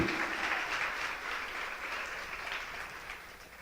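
Applause from a church congregation, a soft, distant wash of clapping that carries on steadily throughout without any speech.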